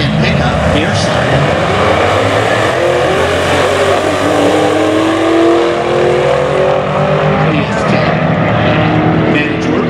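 A 2013 Shelby GT500 Mustang and an S10 pickup race down a drag strip, engines roaring loud and steady throughout, with a commentator talking over the PA.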